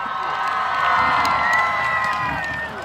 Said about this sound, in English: Give him a cheer because he needs it right now.